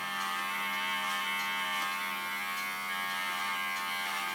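An electric hair clipper cutting hair at the back of the head, giving a loud, steady close-up buzz that holds its drone throughout without pauses.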